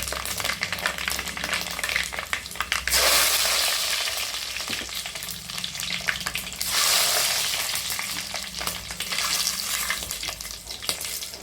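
Spices tempering in hot oil for a spicy fish curry, a steady close sizzle and crackle that surges loudly twice, alone with no talk.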